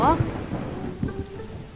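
Thunderstorm in the Roblox game Grow a Garden, with a deep rumbling thunder crack at the start and steady rain hissing throughout, loud and close.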